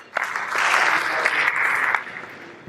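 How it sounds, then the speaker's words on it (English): A round of applause from an audience at a talk on mobile wallets, many hands clapping in a dense burst that swells quickly, holds steady, then drops away near the end. "Please give a round of applause."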